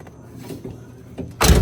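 Soft clicks and rattles of a truck's interior door handle being worked, followed by a loud, sharp thunk as the truck door unlatches and swings open.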